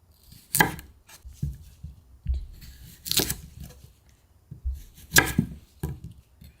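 A knife cuts through radish being prepared for dongchimi in three distinct, crisp chops spaced a few seconds apart, with quieter board knocks and handling noises in between.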